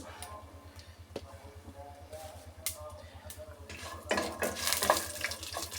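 Chopped ingredients tipped into a cooking pot while making biryani, with light clinks of utensils and a steady low ticking, then a sudden loud, crackling sizzle as the pieces hit the pan.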